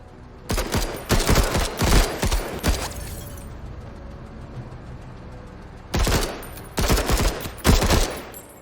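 Battle rifle gunfire in a military video game, coming in two dense bursts of rapid, loud shots separated by a quieter stretch of background ambience.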